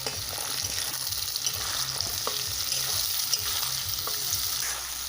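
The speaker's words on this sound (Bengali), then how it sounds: "মটরশুঁটি আর গাজর ভালো করে ভেজে নেব।" Green peas and carrot fry in a pan with onion for a cabbage and potato dish, giving a steady close sizzle with stirring clatter and a few sharper utensil clicks throughout.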